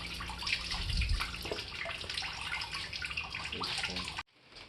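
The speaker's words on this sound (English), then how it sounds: "I'm just gonna have to do all, just let it trickle out of there." Fluid trickles and splashes steadily out of a Volkswagen Cabrio VR6 engine during teardown, a soft, continuous running-water sound that cuts off near the end.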